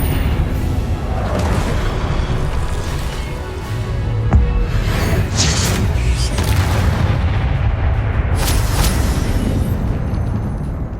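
A Confringo spell explosion in Hogwarts Legacy booms loudly, a heavy blast with a sharp burst partway through, set within a dense rumble of game effects and music.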